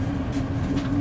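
Steady low rumble and hum of a train at Bitterfeld railway station in Germany, continuous and fairly loud, with faint airy hiss rising briefly above it.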